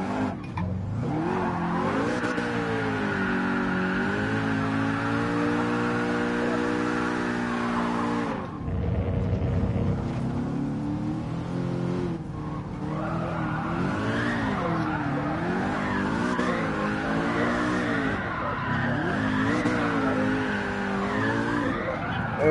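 A Subaru BRZ tuned to roughly 1000 hp drifts in Gran Turismo Sport, its engine note rising and falling with shifting tyre squeal, loud and continuous with a brief break before the sliding resumes.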